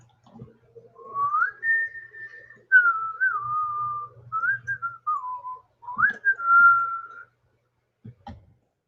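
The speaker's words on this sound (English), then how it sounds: "I whistle a familiar tune." A person whistles a melodic tune alone, clear sustained notes in several phrases with short breaks, ending with a couple of soft knocks.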